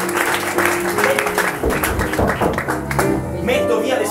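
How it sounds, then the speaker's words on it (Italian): Applause from a stage show audience, a dense wash of clapping heard fairly close, with voices mixed in over the crowd. "Un applauso a Francesco Alessandro"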